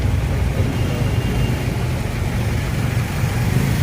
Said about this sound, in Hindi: आगे बाइक सुनाई दे रहा है